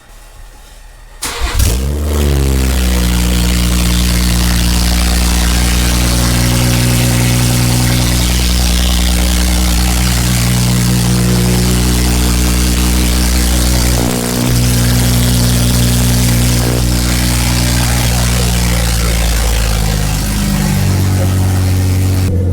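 BMW 340i with B58 engine and exhaust removed, downpipe only: it starts up with a sharp crank, then settles into a loud, steady, raspy idle that continues close and alone throughout.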